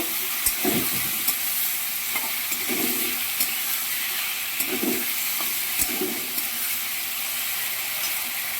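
Potato pieces frying with spices in a pan, a steady hissing sizzle throughout with four or five distinct spatula stirs and scrapes knocking against the pan at intervals, heard close.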